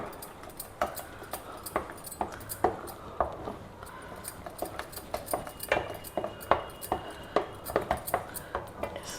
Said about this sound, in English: Now add this fried cashew and raisins to it. Mix it well into the kesari.